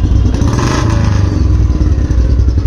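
A Royal Enfield Bullet 350 motorcycle engine revs under throttle with a bend pipe exhaust, loud and close, a dense thumping single-cylinder pulse that holds steady throughout with no talk.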